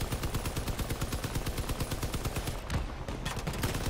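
Rapid automatic gunfire rattles in the vehicle-combat shooter game Crossout, a dense, fast string of sharp cracks that runs on without pause and briefly thins near the end.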